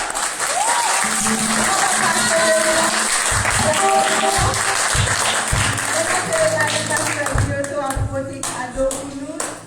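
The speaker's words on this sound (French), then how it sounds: "On va applaudir." Church congregation applauding: loud, sustained clapping from a crowd, with voices talking and calling out over it throughout.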